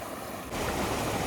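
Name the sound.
water of a stream flowing between big rocks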